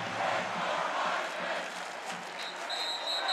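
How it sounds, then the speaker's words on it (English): A large college football stadium crowd at a North Carolina Tar Heels game chanting in unison, a broad, sustained roar from many voices that fills the whole stretch. "the crowd here chanting, Drake for Heisman"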